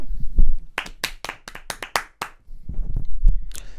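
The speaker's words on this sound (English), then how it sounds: "So let's give him a clap." Several people clap hands in a short burst of sharp, irregular claps, close and fairly loud, with some quieter taps and brief murmurs at the end.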